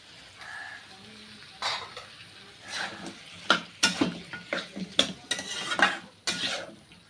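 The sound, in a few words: stirring chicken and potatoes with water in a pan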